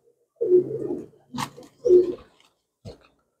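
Pigeons coo close by in two soft, throaty bursts, separated by short pauses and a couple of faint rustles.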